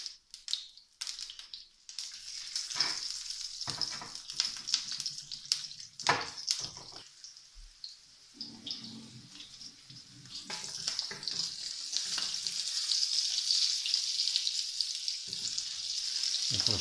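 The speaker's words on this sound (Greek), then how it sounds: "Και τα κάνουμε σωτέ στο τηγάνι." Floured sea bream sautéing in a frying pan, a faint steady sizzle and crackle with intermittent handling clatter, growing denser toward the end, no speech.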